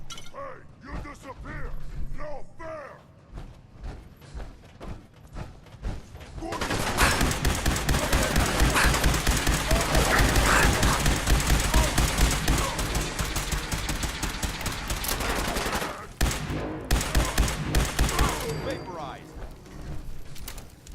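Rapid gunfire bursts from a weapon in the video game Fallout 4, loud and dense through the middle stretch, with mechanical clicks and quieter gaps at the start and end.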